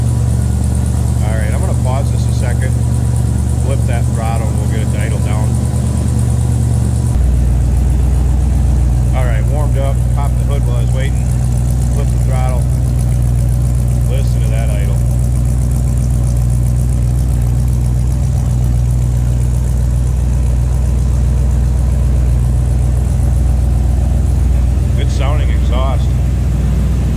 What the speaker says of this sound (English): flip that throttle, and we'll get it idle down